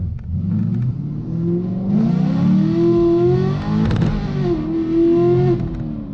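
A 6.2-litre LT1 V8 car engine with a cam upgrade revs up hard in a rising roar, drops briefly, then climbs again, loud and close with a rough, throaty tone.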